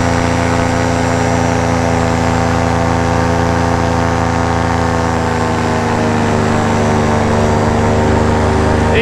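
Paramotor engine running loud and steady throughout a right-hand turn in flight, a constant droning hum with strong harmonic tones and no talk over it.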